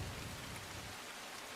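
Heavy monsoon rain pours down in Surat, a dense, steady hiss with a low rumble underneath, loud and continuous with no voices.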